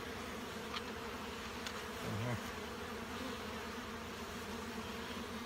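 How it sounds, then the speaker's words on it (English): Honey bees at a hive make a soft, steady buzz close by. The continuous insect hum is faint and lies over a low background noise, with one brief, louder buzz as a bee passes near. "there's a bee down here with pollen"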